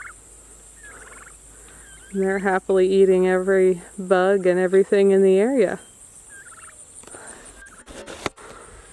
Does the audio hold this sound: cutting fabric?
no